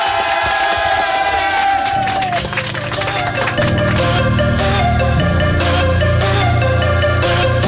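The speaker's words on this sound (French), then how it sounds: "On va l'applaudir très fort" Studio audience at a live French radio show applauding and cheering loudly as a rap instrumental starts, the crowd noise blending into a steady beat with music carrying on underneath.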